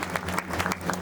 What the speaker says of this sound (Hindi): और मेरे सामने बैठे जो ताली बजा करके, आप सभी ताली बजा करके उनको अभिनंदन करेंगे